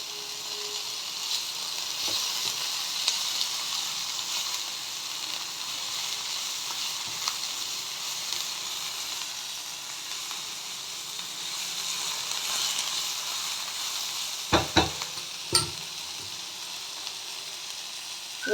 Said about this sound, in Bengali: এইভাবেই আমি একটু ভেজে নেব।